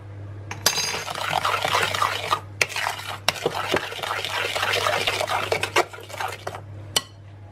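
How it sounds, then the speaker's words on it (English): A spoon stirs baking soda and baking powder into cookie batter in a bowl, with soft, steady scraping and several sharp clinks against the bowl's rim. "starting with 1/2 teaspoon of baking soda, bicarb, bread soda, whatever it's called where you are, 1/2 teaspoon of baking powder, and just mix those in a bit"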